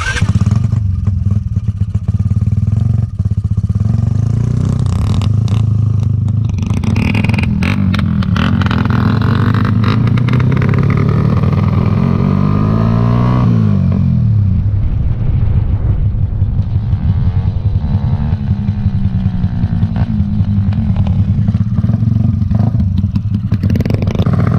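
A motorcycle engine runs loud and close throughout, its revs climbing and falling in sweeps before settling back to a steady rumble.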